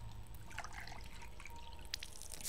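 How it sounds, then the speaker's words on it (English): A small trickle of water in the game Dark Romance, a faint, soft run of liquid with light drips over a low hum, quiet and steady throughout. "we have a source of water"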